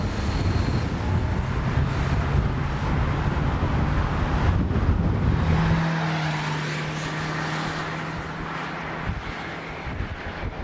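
A Toyota Prius AWD driving along, with a steady broad rush of road and wind noise and a low hum. The noise eases slightly midway as the tone shifts, and no one speaks.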